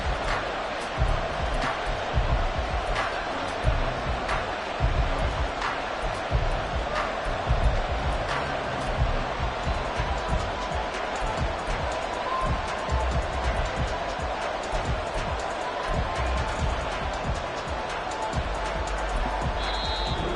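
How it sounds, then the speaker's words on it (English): Simulated stadium crowd noise from the Madden 24 football video game, Titans at Patriots: a sustained, rumbling roar with scattered sharp clicks and thumps, running steadily for about twenty seconds. "That just means this crowd's going to get even louder"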